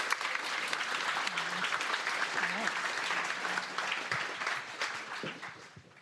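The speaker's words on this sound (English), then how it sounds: "hopefully a round of applause for their time tonight" A room full of people applauds the panelists at a Women in Data panel at Lyft. The clapping is dense and sustained, holds steady for several seconds, then begins to taper off.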